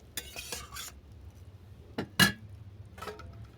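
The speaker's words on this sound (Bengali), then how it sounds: "একটা ডিশ ঢেকে দিলাম।" A pan of crab tel jhal curry with fried bori and onion stalks being covered with a dish: a few faint metallic clinks and scrapes, then one sharper clank, in a quiet kitchen.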